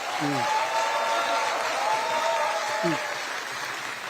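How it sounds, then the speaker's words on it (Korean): An audience at a party meeting applauds, a steady wash of many hands clapping through the hall, with a couple of short voice sounds cutting through. "정청래 대표님 포함해서 지도부에게 절박한 마음으로 다시 한번 박수로 응원 부탁드립니다."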